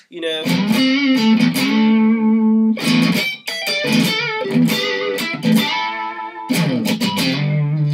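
An electric guitar runs through a Juggy boost pedal, with crunchy, slightly overdriven bluesy chords strummed in short phrases that ring out between pauses.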